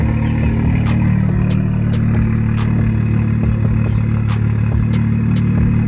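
A BMW F30 335i with a fully straight-piped exhaust idles loud and close, giving a steady, deep, droning rumble with a constant low throb and no talk over it.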